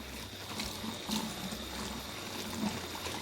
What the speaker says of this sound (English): I put them under running water and I clean them all up